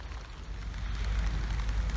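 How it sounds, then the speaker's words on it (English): Rain falls on a garden plot during a potato harvest, a steady close hiss and patter with a low rumbling undertone that grows slightly heavier toward the end. "Wow, just look at that rain coming down."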